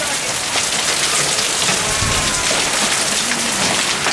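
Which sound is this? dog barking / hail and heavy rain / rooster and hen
hail and heavy rain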